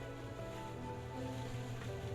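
Water from a bucket pours into a cement mixer in the Builder Simulator video game, a steady, full rushing wash with a low tonal hum beneath it and no voices.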